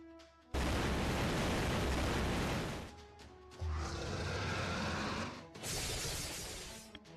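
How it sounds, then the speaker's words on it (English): A Fuma missile explodes in a video game with three loud, roaring, crashing bursts, each lasting a second or two and split by brief near-silent gaps, with a heavy shattering texture throughout. "Fuma missile."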